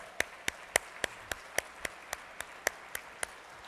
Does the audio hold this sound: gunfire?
no